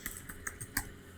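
Light tapping on an old laptop keyboard while writing in an office-style program: a short, uneven burst of crisp key clicks, close by and unaccompanied by talk.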